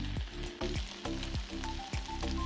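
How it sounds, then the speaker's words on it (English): Chicken and okra fry in hot oil, a continuous sizzle broken by five regular scraping strokes of a spatula stirring the pan, close and moderately loud. "Please stir and fry for 3 minutes."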